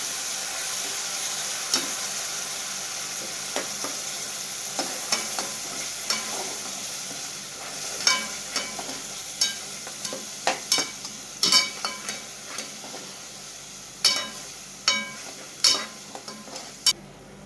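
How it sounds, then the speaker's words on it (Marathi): Curry leaves and onions fry toward golden brown in a pan, with a soft continuous sizzle broken by repeated sharp spoon-stirring clinks and scrapes that grow busier later on, and no talking. "कांदा, थोडंसं गोल्डन ब्राऊन होईपर्यंत फ्राय करा"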